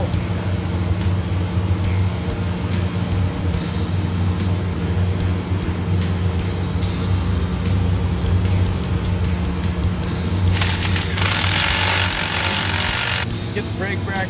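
A bolt comes off an M35 military truck during a rear disc brake conversion, a harsh burst of tool noise lasting a few seconds over a continuous background rumble of workshop noise.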